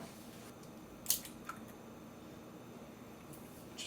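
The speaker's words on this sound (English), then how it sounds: "Crack them perfectly, sit them onto your pan" Eggs cracked one after another into a frying pan, giving a couple of sharp, brief cracks with light wet splats, close by against a quiet kitchen background.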